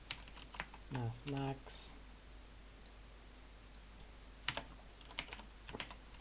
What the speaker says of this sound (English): I will also type it here